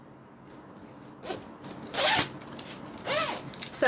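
A metal zipper pull is worked onto Wawak zipper tape, giving several quick close ratcheting zips and clicks in bursts, louder toward the end, against a quiet room with no talk.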